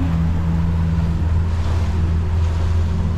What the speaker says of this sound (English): We got a north wind blowing this morning.